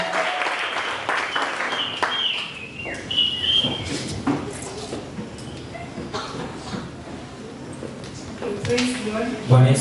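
Congregation clapping and shouting praise at a Youth Sunday church service, a sustained, busy wash of hand claps and cheers mixed with voices throughout.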